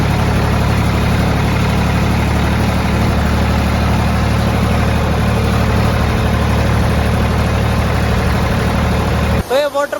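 A tractor engine idles and runs loudly and steadily close by near Birthi Waterfall in Munsyari, Uttarakhand, a constant low rumble that cuts off abruptly near the end.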